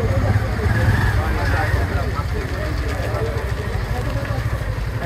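Motorbike engines idling and rumbling on a city footpath in Rajshahi, a steady low throb continuing throughout beneath someone talking.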